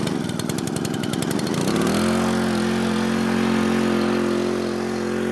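A small pull-start engine on a high-banking gold sluise rig roars loudly and steadily at high throttle, after a sputtering start in the opening seconds.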